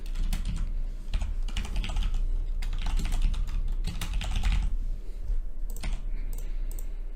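Rapid bursts of keystrokes on a computer keyboard as a password is entered while logging into an online platform, clicking in uneven runs with brief pauses, close and fairly loud with no talking.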